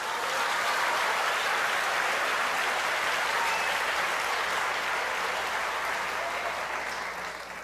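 A church congregation applauds steadily and loudly, a dense wash of clapping that holds evenly for several seconds and eases slightly at the end.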